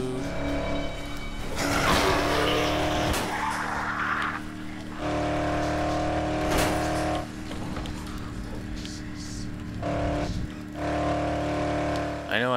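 A car driving down a road in the zombie game Dead Island: a loud, continuous engine drone that holds steady, dips briefly at a few points, and picks up tire and rattling noise along the way.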